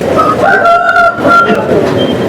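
A rooster crowing at a busy weekly country chicken market in Bangarpet, a loud close call with a drawn-out pitched middle, over crowd noise.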